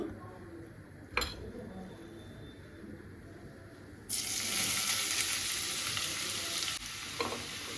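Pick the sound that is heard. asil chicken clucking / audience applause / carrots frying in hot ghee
carrots frying in hot ghee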